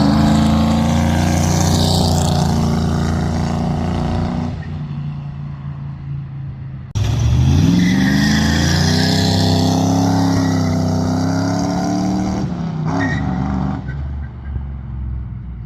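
A Ford F100 pickup with a bed/side exit exhaust and notched cross member revs hard and accelerates, its loud engine drone lifting in pitch after a short break, with no talking.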